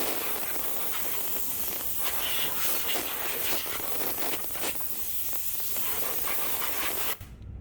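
Compressed air from a shop compressor blowing dust off the oil filter area of a Subaru BRZ engine, a steady close broadband hiss lasting about seven seconds before cutting off abruptly.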